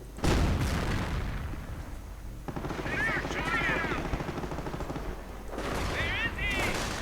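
Gunfire and sniper shots ring out in a World War II–style strategy game as American riflemen fight a Panzer, a steady wash of battle noise with a caster talking over it throughout.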